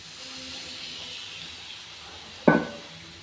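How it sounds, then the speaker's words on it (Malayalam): Tamarind water poured into a hot clay pan (chatti) of frying spices while making lime and dates pickle: a steady low hiss, then a short, loud sizzling burst near the end. "പുളിവെള്ളം ഒഴിച്ചു കൊടുക്കട്ടോ"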